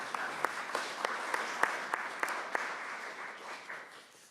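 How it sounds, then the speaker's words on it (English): Audience applause at a joint fisheries committee meeting, a steady wash of clapping with a few sharper individual claps standing out, moderately close and fading toward the end. "Give them a round of applause, please."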